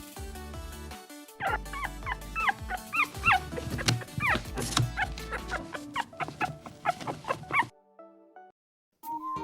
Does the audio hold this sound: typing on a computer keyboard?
no